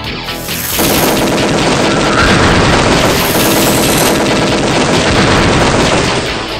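Gunfire from the 1995 Philips CD-i game Chaos Control, a loud, dense, continuous rapid-fire barrage that starts after a brief quieter moment and keeps going without pause, with no voices.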